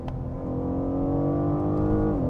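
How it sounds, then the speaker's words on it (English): A BMW M760i with a V12 engine accelerates hard in manual mode with paddle shifts, its smooth steady engine drone climbing in pitch before a quick gear-change dip at the end, heard close from inside the car. "You can go into manual mode, you can use the paddles, and the shifts are very quick."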